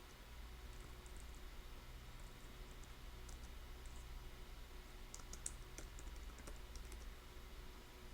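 Quiet, rapid typing on a computer keyboard, soft key clicks in an irregular stream over faint background hiss, with a few sharper taps near the end.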